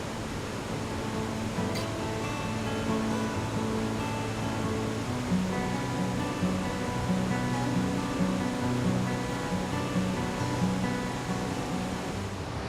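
Burney Falls waterfall roars in a steady, broad rush of falling water, continuous and even throughout with no talking.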